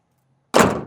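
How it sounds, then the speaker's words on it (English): After a moment of silence, a Mercedes G55 AMG G-Wagon door slams shut with a single heavy, solid thunk close by that quickly fades. "You got to shut down all these doors and panels with testosterone, just like this."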